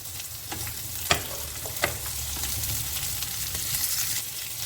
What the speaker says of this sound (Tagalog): Igisa po natin ang bawang.